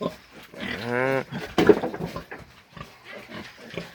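Pigs on a pig-fattening farm give a squealing, grunting call near the start, followed by a sharper burst of animal noise, with people talking throughout.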